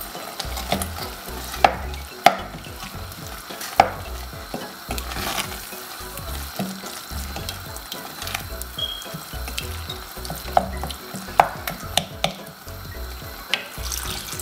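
Oil sizzles steadily in a pan while a utensil scrapes and stirs gundruk, fermented leafy greens, with sharp clinks against the metal at irregular moments, close and fairly quiet.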